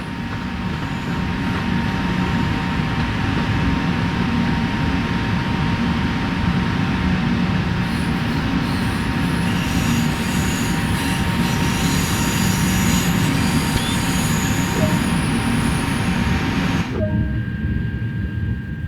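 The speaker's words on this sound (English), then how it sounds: "Climb aboard the modern high-speed express TGV" A TGV high-speed train runs steadily in Train Sim World 2 on the Marseille–Avignon LGV Méditerranée line, a continuous loud rumble and rail roar with high wheel squeal, shifting near the end as the sound drops away abruptly.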